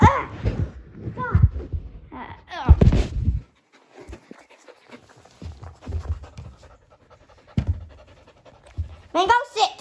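A dog pants in quick bursts of breath up close, the rhythmic huffing broken by pauses, while a person talks loudly over it at times.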